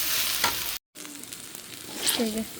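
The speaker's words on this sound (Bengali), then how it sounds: "পোলাও চালটা আমি ভাইজা নিচ্ছি" Pulao rice sizzles and crackles as it fries in a pan, a soft continuous hiss broken by a short gap and the scrape of stirring near the end.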